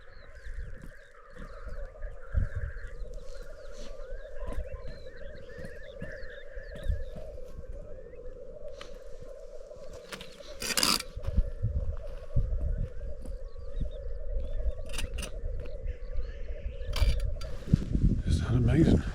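Grouse at a lek keep up a steady, distant bubbling chorus of low cooing calls, with scattered sharp hisses and clicks over the top.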